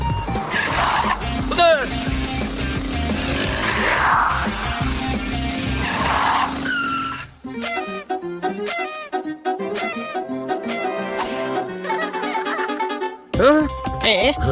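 Two cartoon cars race in a chase, loud tire squeals and skids riding over a busy music and effects mix, with a hard break midway before the screeching resumes.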